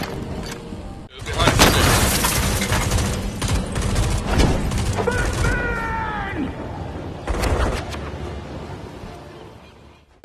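Gunfire in the video game Batman Arkham Shadow: dense bursts of shots and clattering impacts fill the scene, mixed with booms, mechanical noise and game voices.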